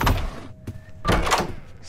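Door opening in the horror video game Doors, a pair of heavy thunks and a rumbling slide heard close over dense game ambience.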